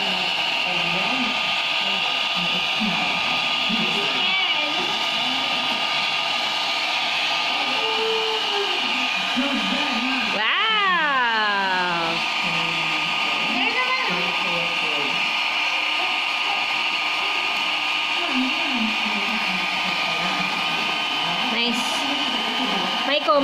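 Hair dryer blowing steadily on melting crayons for an art project, a continuous close whooshing hum running throughout while children and adults talk over it.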